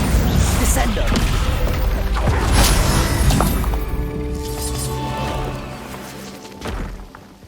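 Bombarda spell blasts in the video game Hogwarts Legacy: several sharp crashing, shattering impacts in quick succession during combat, loud at first and then fading into rumbling debris, with battle voices mixed in.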